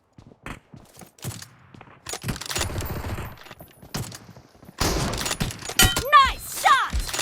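M24 sniper rifle fire in a video game match, sharp cracking shots and bursts spread irregularly with thumps and clattering, loud and close, with game voices and radio-like chatter mixed in.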